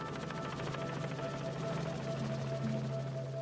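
A helicopter approaching, heard as a steady, fairly faint rotor drone with a low tonal hum and soft rhythmic pulsing that holds level throughout, with no talk.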